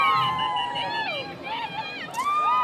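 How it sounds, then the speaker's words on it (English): Spectators lining the course of the Covenant Health Knoxville Marathon, cheering and yelling for passing runners, a close, continuous mix of high excited voices and shouts. "You've got folks yelling. They're cheering for Caroline this morning."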